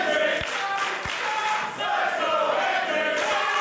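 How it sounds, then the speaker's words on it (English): Wrestling arena crowd roaring and cheering for Joe Hendry during a match against Scotty O'Shea, a steady broad wash of many voices with a couple of low thumps near the start. "The crowd getting behind him"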